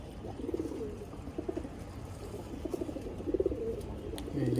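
Brown-necked pigeons cooing on a rooftop, several soft repeated coos in short bursts, fairly faint against background noise.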